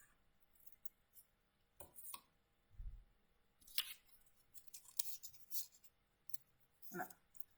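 Scissors cutting a small paper rectangle for an Easter crown craft, a few quiet close snips and paper rustles spread unevenly, with faint handling noises.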